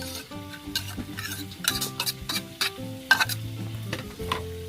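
Onions sizzling in hot oil in a frying pan while a utensil stirs them, with scraping and clinking against the pan in uneven bursts, close and fairly loud, no voices.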